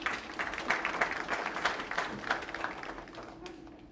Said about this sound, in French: nous vous invitons à venir prendre la parole sous vos applaudissements